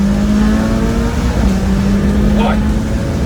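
A McLaren 675LT Spider's engine revs hard near the red line, a loud sustained droning roar with a steady tonal whine heard from inside the car as it pulls.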